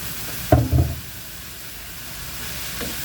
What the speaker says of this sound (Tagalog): Nagisa-gisa na natin.